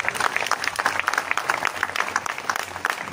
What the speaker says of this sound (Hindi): जोरदार ताली हो जाऊ।